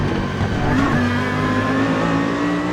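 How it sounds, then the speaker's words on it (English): Lamborghini GT3 race car engine in the racing sim Automobilista 2, a loud, steady high-revving drone with rising harmonic tones as it pulls through the revs, heard alone. "I think this Lambo sounds great."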